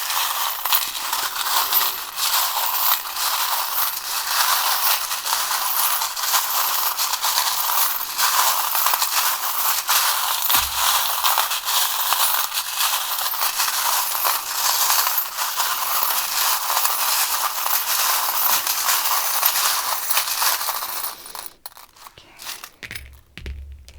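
Tarot cards are shuffled by hand, giving a continuous dense papery riffling and rustling close up that stops near the end with a few soft knocks.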